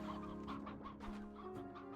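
Chickens cluck softly in the video game Slime Rancher 2, steady low clucking and murmuring from several birds over faint game background music.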